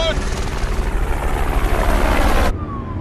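Helicopter rotor noise from an action film scene, a loud, steady broadband chop filling the whole stretch before dropping off abruptly near the end.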